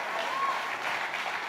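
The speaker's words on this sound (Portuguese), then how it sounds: "Você pode aplaudir Jesus?" A church congregation applauds, a brief wash of many hands clapping in a large room, steady and moderately loud.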